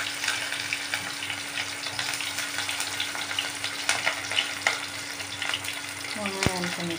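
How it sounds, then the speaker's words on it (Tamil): Whole spices crackle and fry in hot oil for coconut rice, a steady close sizzle with scattered pops, a low constant hum running underneath and a brief tonal chime near the end. "எண்ணெய் நல்லா காஞ்சி பட்டும் இந்த ஹோல் ஸ்பைசஸ் போடலாம் நம்ம"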